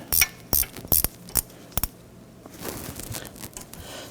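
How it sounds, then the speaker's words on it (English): Metallic clinks and ratcheting as a nut and washer come off the front stud of a 1997-2006 Jeep Wrangler exhaust manifold: several sharp close knocks, then softer scraping handling. "Let's go ahead and remove the nut and washer from the front."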